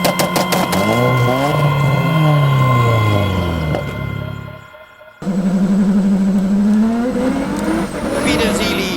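Highly modified red Toyota MR2 hill climb car with a turbocharged 3.5-litre Toyota V6, loud and close, revving with rising and falling engine pitch, a brief drop in noise midway before it roars again.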